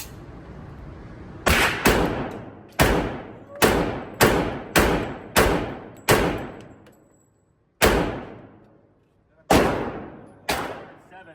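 A Tisas ASF 1911 US Army .45 pistol fires an eight-round magazine outdoors, loud sharp shots spaced about half a second to a second apart, with one longer pause before the final shots.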